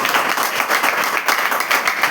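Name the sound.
audience applause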